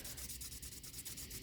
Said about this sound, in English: take a little sandpaper and just clean that too, make it shine